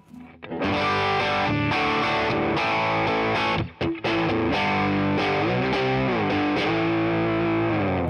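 Electric guitar played through an M Pedals light overdrive with the gain turned all the way up, a loud, thick and sustained driven tone with ringing chords and note bends, briefly cutting out near the middle before resuming.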